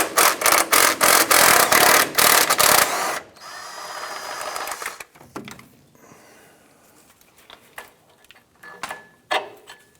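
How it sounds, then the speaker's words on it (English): Ratcheting and mechanical clicking from a 15mm swivel socket on an extension loosening an engine mount bolt on a 1994-2004 Chevrolet S10, loud and rapid for the first three seconds, then quieter scattered clicks and knocks. "I'm going to use a 15mm swivel socket and extension here to remove this bolt."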